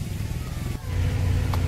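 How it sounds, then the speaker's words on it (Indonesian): A local resident's motorcycle passes close by on a dry offroad track, its engine a steady mid-pitched drone that swells louder as it nears, with no talking. "ada warga lokal lewat pakai motor"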